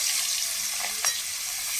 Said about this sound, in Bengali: এইদিকে আগে পটলগুলো আমি একটু ভেজে নেব